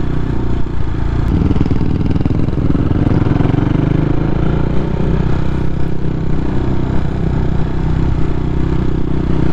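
A CCM Flat Tracker Classic motorcycle engine drones loud and steady while riding, with a continuous low rumble and wind noise throughout and no clear pauses.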